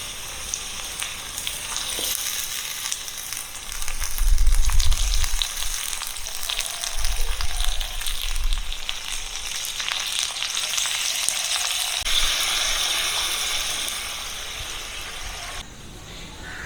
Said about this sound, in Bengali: এখন ভাজা হচ্ছে পাঁপড়।